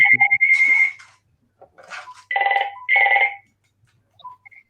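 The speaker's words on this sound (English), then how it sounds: "Getting a phone call here" A telephone rings with repeated electronic warbling bursts, loud and close, in short pulsing groups separated by pauses, with no talk over it.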